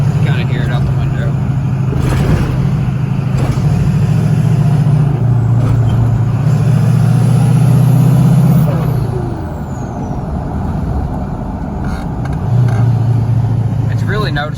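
Duramax diesel pickup with a hood stack and ZF6 transmission, heard from the passenger seat with the window down: a loud, deep engine drone that rises and dips as the truck pulls, with a brief lull before it returns.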